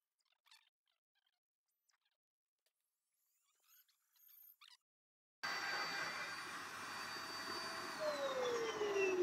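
A few faint clicks and taps in near silence, then a vacuum cleaner switches on abruptly and roars steadily. It is used as dust extraction while an MDF sheet is milled on a LEAD CNC 1515 router.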